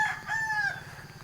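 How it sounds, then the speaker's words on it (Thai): A rooster crows one drawn-out cock-a-doodle-doo at a mixed farm in the early morning, moderately near and clear, with a faint low rumble of surroundings beneath and no voices. "บรรยากาศเช้าเช้าเสียงไก่ขันนะครับ"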